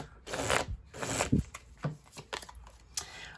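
A deck of tarot cards is shuffled by hand in quick, crisp riffles and flicks, several close bursts of papery slapping with brief pauses between them and no voice.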